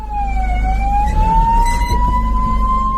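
Ambulance siren wailing steadily on a road where an elephant blocks the way, its tone sliding gradually upward over a constant low engine rumble, loud and close throughout.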